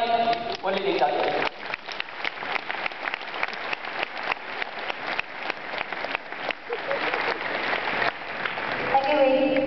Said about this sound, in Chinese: 那么大家以掌声来欢迎